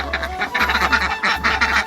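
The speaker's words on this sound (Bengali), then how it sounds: "হাঁসগুলো ছেড়ে দেবো এবং তাদেরকে খাবার দেব" Several domestic ducks quack loudly and repeatedly near their village duck house, overlapping nasal calls in quick bursts, with a steady low hum running underneath.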